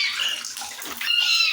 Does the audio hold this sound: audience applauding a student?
no